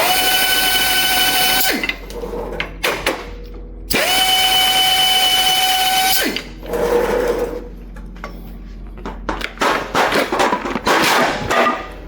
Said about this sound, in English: This thing is pneumatic, it's run by air. So I'm loosening up the clamps